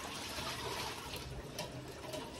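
Water falls and splashes outside a home in a steady, unbroken rush, moderately loud and constant throughout with no voices.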